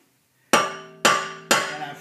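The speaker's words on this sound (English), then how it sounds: "a standard four-way, and I've taken a hammer" Three sharp metallic hammer blows strike a standard four-way lug wrench fitted on an over-tightened car lug nut, each clang ringing and decaying, spaced about half a second apart after a moment of silence.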